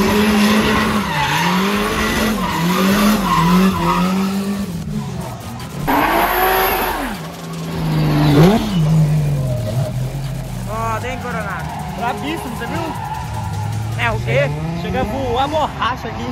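Drift cars at an Ultimate Drift event in Balneário Camboriú, engines revving and wailing with tire squeal as they slide past, loud and continuous with rising and falling pitch sweeps, crowd voices mixed in.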